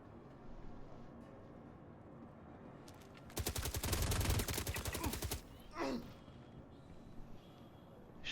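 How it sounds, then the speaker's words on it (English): A burst of rapid automatic gunfire from a Star Citizen bunker firefight, roughly two seconds of dense regular shots over a low ambient game hum, followed by a brief swooping sound effect. "Shooting him in the face and he's still able to get rounds off"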